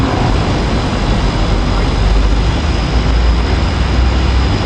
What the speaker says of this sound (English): Railcars 357, 356, and 284 of the Silverliner V is taking off.